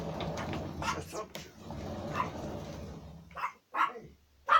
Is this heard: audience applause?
no